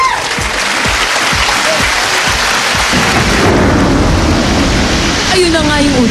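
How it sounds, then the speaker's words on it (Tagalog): Heavy rain pours steadily while low rumbles of thunder roll through, with some muffled voices underneath. "Kulog at kidlat."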